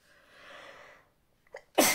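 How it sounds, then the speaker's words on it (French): A single sharp sneeze from a woman, preceded by a short sharp inhalation; it bursts out loud and close after a quieter stretch of soft breathy sound. "J'espère que je ne vais pas éternuer là."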